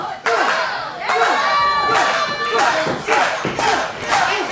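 A loud pro wrestling arena crowd roars and chants in repeated surging waves during a match, close and continuous, with shouts rising over the din.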